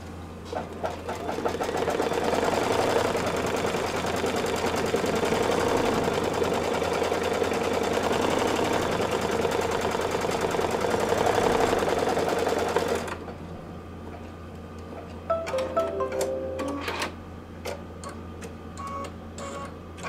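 An embroidery machine stitches a Kimberbell Christmas nativity ornament in white thread, a close, rapid, steady ticking hum that runs for about thirteen seconds, stops abruptly, then gives way to a few faint clicks and handling noises.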